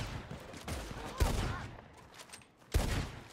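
Gunfire in the Red Dead Redemption 2 Online video game: two sharp, loud shots about one and a half seconds apart, each with a short decaying tail, over a low continuous game background.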